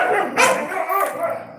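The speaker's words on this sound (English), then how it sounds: "You hear the dogs, but they're all behind fences." Guard dogs bark from behind fences during a morning walk in the Philippines, a few short barks sounding at moderate distance amid street ambience, with faint voices mixed in.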